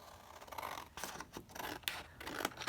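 Scissors snip through paper while trimming craft pockets, several quiet close-up cuts and rustles in uneven bursts, faint and without talk.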